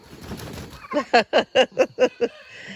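A burst of rapid, rattling turkey gobbles, about seven loud pulses in quick succession, following a stretch of quieter rustling background noise.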